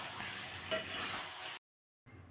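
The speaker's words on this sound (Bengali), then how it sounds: "এই যে মাছ ভাজা আছে সেইগুলো এর ভিতরে আমি দিয়ে দেবো, দিয়ে আর একটু কষিয়ে নিচ্ছি" Fried fish stirred with spices in a hot pan, giving a steady loud sizzle with scraping stirs for about a second and a half, then a short silence before the frying resumes.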